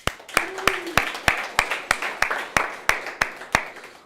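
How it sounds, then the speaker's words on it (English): Sharp hand claps in a steady, evenly spaced rhythm, about a dozen, close and crisp, at a mobile developers' meetup, with a brief voice heard early on. "I think we should give a round of applause for Chile as well"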